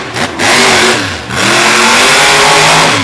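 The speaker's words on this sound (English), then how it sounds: "That engine is screaming right now." Jim Kohler's Avenger monster truck revs hard during qualifying at a Radford, Virginia monster truck event, a loud, close engine roar that dips briefly and then climbs again and holds high.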